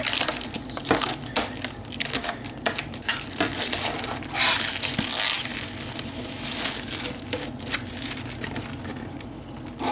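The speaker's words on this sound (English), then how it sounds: "now it's time to go ahead and pull off all the masking as well as the protective peel" Masking and protective film are peeled off a freshly painted LaTrax Rally RC car body, close crinkling and crackling with irregular tearing bursts and plastic rustles throughout.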